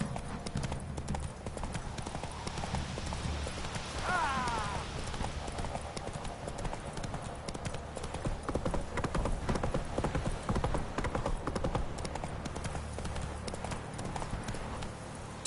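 Horse hooves clip-clop steadily during a ride, a continuous close trotting rhythm with a faint neigh mixed into the busy background.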